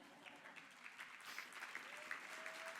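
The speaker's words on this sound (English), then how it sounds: "a round of applause is in order" An audience at an anniversary gala applauds with steady, distant clapping that holds level and swells slightly toward the end; a faint voice sits underneath.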